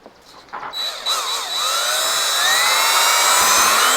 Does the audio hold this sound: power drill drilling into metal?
yes